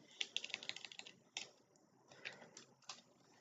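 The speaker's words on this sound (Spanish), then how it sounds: "pongo la contraseña de María" Someone types a password on a computer keyboard, a quick run of light, close key clicks followed by a few scattered taps, with no talking over it.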